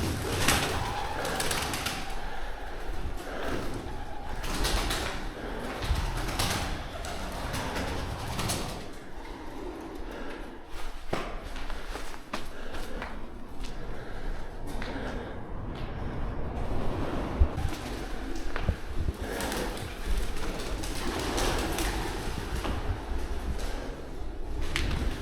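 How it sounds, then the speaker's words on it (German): Pigeons coo steadily inside an abandoned building, with overlapping calls and occasional wing flaps or rustles in a roomy, echoing space for the whole stretch. "Ekelhaft. Das ganze Ding ist eine Taubenbude."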